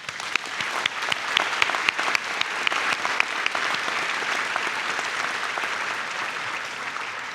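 A graduation ceremony audience gives a sustained round of applause, a dense field of many hands clapping in a hall, steady and full throughout.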